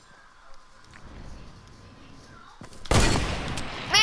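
Gunfire in Fortnite: a loud burst of shots breaks in after a quieter stretch of game noise, with a second burst at the very end.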